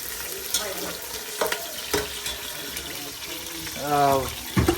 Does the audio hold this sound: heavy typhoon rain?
no